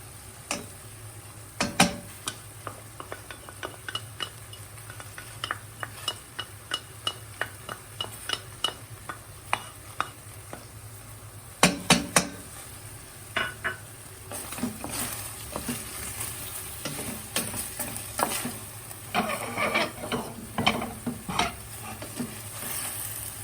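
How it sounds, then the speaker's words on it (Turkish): Onion and garlic tossed into a pan of meat for kavurma, with a sizzle underneath and repeated sharp scraping clicks of a spoon stirring at an uneven rhythm, close and lively, growing busier toward the end. "Şimdi soğan ve sarımsağımızı ilave ediyorum."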